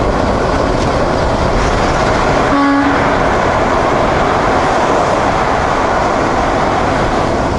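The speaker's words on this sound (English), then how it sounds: "Open the window a little bit. It's a short tunnel." Driving along a highway through a short tunnel with the window partly open: a loud, continuous wind and road roar fills the cabin, broken by a brief tonal horn toot early on.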